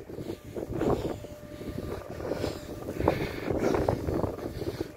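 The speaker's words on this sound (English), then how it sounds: "Especially in the wind." Wind gusts at Harborough Rocks on a cold day, a steady broadband rush with buffeting microphone noise, rising and falling over a few seconds, close and fairly loud with no talking.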